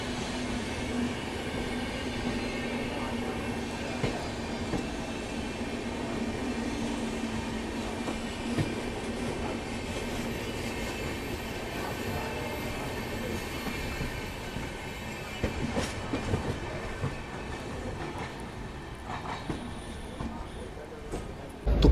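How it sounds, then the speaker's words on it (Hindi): A Jodhpur–Delhi Mandore Express sleeper train rumbles steadily from inside the carriage while running parallel to the Avadh Assam Express, with continuous rail noise, occasional clatter and brief squeals, and faint voices in the background. "पैरेलल चल रहा है हम लोगों का अवध असम एक्सप्रेस के साथ"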